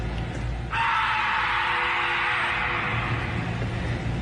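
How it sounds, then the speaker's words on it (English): A scream, apparently played from a speaker out in dark woods, rings out as one sustained, steady, distant wail over a constant background hiss. "I think this could be a recording because the scream sounds exactly the same both times."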